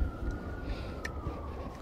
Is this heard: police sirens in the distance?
yes